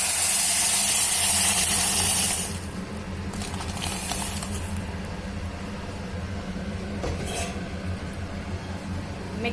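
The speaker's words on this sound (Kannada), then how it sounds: "ಈಗ ಸಾಂಬಾರು ಸೇರಿಸ್ಕೊಂಡ್ಬಿಡೋಣ." Mixed dal sambar is poured into a sizzling tempering: a loud hissing splash opens, then fades into quieter bubbling, with a few light clinks of a utensil against the pot and no talk.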